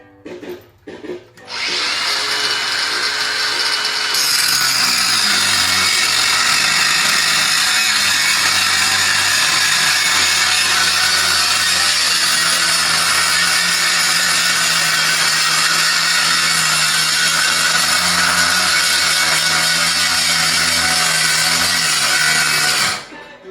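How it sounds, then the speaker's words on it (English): A power tool cuts through a Subaru WRX axle with a loud, continuous, harsh grinding screech. The sound holds steady for about twenty seconds, close and alone, before cutting off abruptly. "you're too lazy to take the axle out, so you just cut it"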